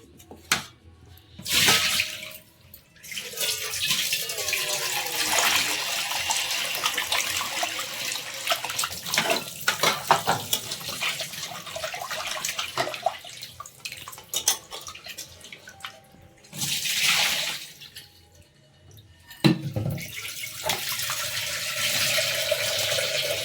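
Water runs steadily from a tap for a long stretch while something is washed and rinsed, the flow pausing briefly a few times, with splashes and drips; no one speaks.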